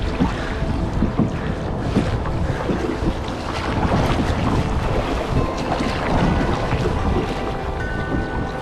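Waves slosh and crash around a kayak out on open winter water, with strong wind buffeting the microphone in a continuous loud roar and no voices.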